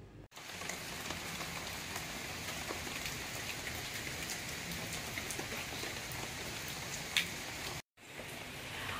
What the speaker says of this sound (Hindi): क्योंकि हो गई बारिश आपने देख लिया